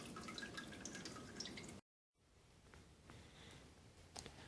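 Liquid drains and drips from grains while brewing a wit beer from a Coopers kit, a quiet steady trickle with scattered drips, briefly cut to silence midway before resuming.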